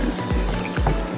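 Watery slime mixed with borax being swished around, wet squelching sloshes close up, brief and repeating.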